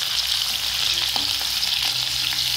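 Chopped green chillies fry in hot oil with a steady, close, continuous sizzle and occasional light stirring taps, and no one speaks.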